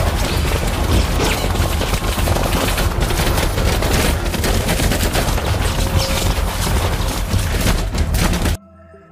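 Sustained, loud automatic gunfire from soldiers in a film scene, a dense continuous barrage of shots and booms lasting several seconds before cutting abruptly to near silence.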